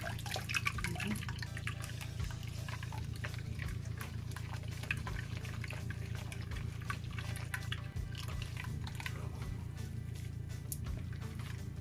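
Homemade juice pours and trickles steadily through a strainer on a second straining, a continuous wet splashing with scattered drips, close by and fairly loud throughout.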